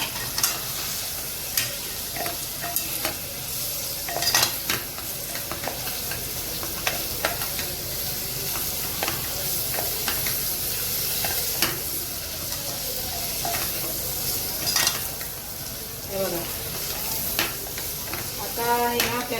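Spiced kantola (spiny gourd) crackles and sizzles steadily in a hot pan while being stir-fried Agri style, with repeated scraping stirs and a constant close hiss for the whole stretch.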